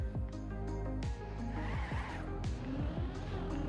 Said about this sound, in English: Who else likes the sound of tires screeching?